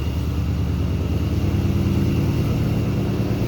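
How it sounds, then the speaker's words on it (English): A 2019 Mustang engine fitted with longtube headers rumbles loudly and steadily close by, a deep pulsing exhaust note with no voices. "Give it a couple of revs, see how it sounds."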